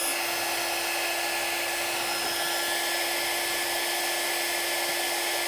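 A hair dryer dries chalk paste on a stencil with a steady, loud, unbroken whir and a constant tonal hum, close by and alone for the whole stretch.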